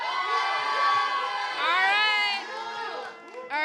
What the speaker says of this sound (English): Guys, make noise for whoever you think won.